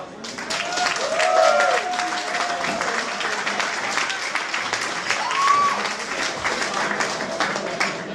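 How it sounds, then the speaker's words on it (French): A crowd applauds the artists Valérie Whissel and Anthony Lacroix at the Cuvée artistique 2012 event with steady, dense clapping for about eight seconds. A few whistles and cheers rise above it. "Alors une bonne main d'applaudissements pour les artistes Valérie Wissel et Anthony Lacroix."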